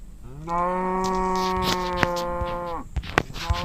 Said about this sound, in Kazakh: Өйткені мына жерде сиыр бар тұр.